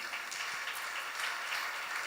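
A church congregation at a thanksgiving service claps together in a brief, dense wash of applause, heard from some distance at moderate volume.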